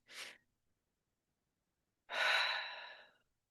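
Two breaths, a short intake followed after a pause by a longer, louder deep exhale, close and alone in a quiet guided breathing-awareness session.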